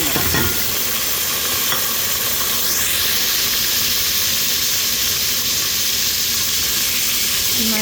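Onion and ginger fry loudly in a hot pan, with a dense continuous sizzle and hiss close up that runs the whole time.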